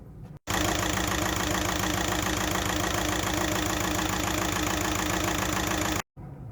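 A car engine with a camshaft sensor fault idles roughly at about 820–840 rpm, a loud continuous rumble with an uneven shaking pulse, cut by short gaps near the start and end, with no talking.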